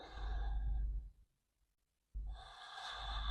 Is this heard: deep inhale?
yes